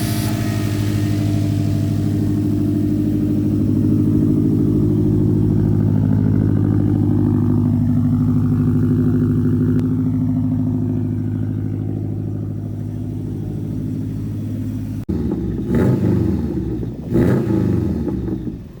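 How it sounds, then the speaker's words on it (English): Car engine freshly rebuilt with a brand-new short block, revving hard and holding high, droning rpm for a long stretch before dropping to a rougher, choppier idle with sharp blips, loud and close. "First revs after getting that new fresh motor in."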